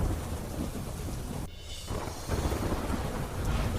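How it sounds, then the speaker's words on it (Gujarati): Heavy monsoon rain pours over rural villages in Gujarat with thunder rumbling through it, a dense steady hiss of rain on surfaces broken by a brief lull before the downpour surges back, no voices. "તાપીના ગ્રામ્ય વિસ્તારોમાં પણ ખાબક્યો વરસાદ."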